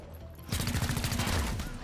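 Rapid automatic gunfire from the video game XCOM Chimera Squad breaks out suddenly after a quiet moment, a dense, loud burst of shots that keeps going to the end.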